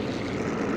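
A propeller aircraft drones past in the Sniper 4 video game, a brief, steady low engine hum at moderate volume with no speech over it.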